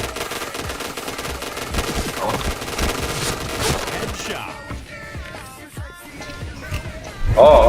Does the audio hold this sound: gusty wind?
no